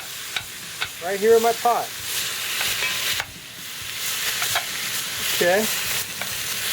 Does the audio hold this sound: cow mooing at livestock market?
no